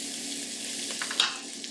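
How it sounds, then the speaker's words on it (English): Half an onion sautéing in oil, a soft steady sizzle with a few faint scraping stirs near the end, close and alone with no talking. "So we will add the half of the onion. And we want to saute this for about 5 to 8 minutes"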